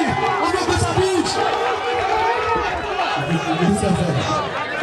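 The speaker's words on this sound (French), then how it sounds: "Accompagnez-les avec vos acclamations." A crowd at an MMA fight cheers and shouts in a continuous, roaring wash of voices, loud and close, with scattered yells rising above the general din.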